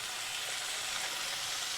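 Minced meat hisses and sizzles steadily in a frying pan over softened golden onions, a dense, constant close crackle with no talk.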